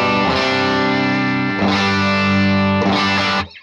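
Electric guitar through an FM3 Morgan AC-20 amp model with a 57 cab, playing loud sustained distorted chords that change twice before cutting off; no talk.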